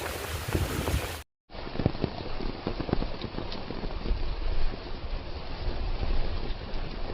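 Wind and rain sweep over a farm in a steady dense rush with scattered patters of heavy drops, broken by one brief dropout near the start.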